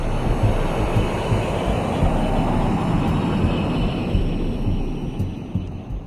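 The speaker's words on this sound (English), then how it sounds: "a German Messerschmitt took off from Leipheim airfield in Bavaria" A Messerschmitt Me 262 jet fighter with twin Junkers Jumo 004 turbojet engines takes off from Leipheim airfield in Bavaria, a loud, steady, broad roar that holds throughout and eases slightly toward the end.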